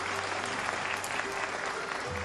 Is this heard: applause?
yes